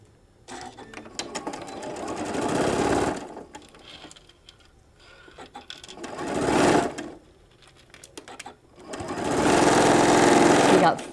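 A sewing machine stitches across the seam of a peekaboo color-pop shoulder bag in three loud, rattling bursts of a few seconds each, separated by short quiet pauses.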